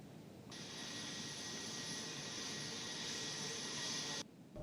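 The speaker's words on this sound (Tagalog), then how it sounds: "pinalipad itong surveillance aircraft na nakikita ninyo sa aking likuran. Ito yung tinatawag na P-8 Poseidon ng US Navy." A US Navy P-8 Poseidon surveillance aircraft flies past with a steady, loud jet roar and high turbine whine that starts abruptly and holds for about four seconds before cutting off, with no talking.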